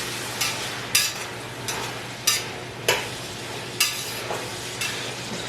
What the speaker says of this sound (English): I've washed and diced 1 whole green pepper, and I'm now adding that in.